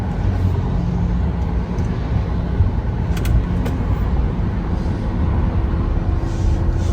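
A BYD electric car on a test drive produces a steady, loud low road and cabin rumble that holds evenly throughout, with no one talking.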